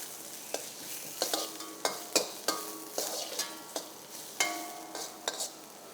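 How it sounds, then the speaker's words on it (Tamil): Chopped onion, curry leaves, dried red chillies, cinnamon, cloves, cardamom and fennel sautéing in hot oil for a mushroom masala. A soft sizzle runs throughout, broken by sharp, irregular clinks of a spoon stirring against the pan. "ஆனியன் சாப் பண்ணது, கருவேப்பிள்ளை, காய்ந்த மிளகாய் நல்லா பொன்னிறமாக வதக்க வேண்டும்"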